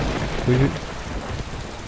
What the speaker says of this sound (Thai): ฝนตกน่ากลัวมากเลยครับ